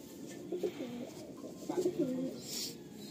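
A female high-flying tournament pigeon gives quiet, soft coos in two short bursts, the second a rolling run of notes, close by against a faint background.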